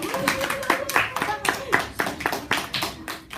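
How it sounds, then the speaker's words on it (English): A small group gives a soft golf clap during a kids' weather podcast segment, sparse separate hand claps ringing out close by while voices talk over them. "give them a golf clap, please"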